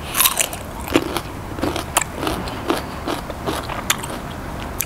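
Crisp crunching bites while eating spicy Isan-style pork larb with blanched pork and fresh vegetables, a series of sharp close crackles and chewing crunches at an irregular rhythm, with no talking.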